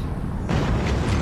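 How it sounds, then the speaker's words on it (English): A cannon shell explodes in the game Forts, a single sudden boom that swells to a broad, rumbling roar and sustains to the end, loud and close with no voices. "That was a waste of a cannon."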